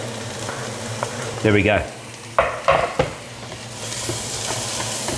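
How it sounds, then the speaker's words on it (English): Chopped onions drop into a little hot oil in a pan and fry for Lebanese sambousek filling, giving a bright steady sizzle with a few clattering stirs, close and loud, while a person speaks briefly. "Okay, so now I'm just gonna put a little bit of oil, less than last time. And what I'm gonna do is straight away put the onions in."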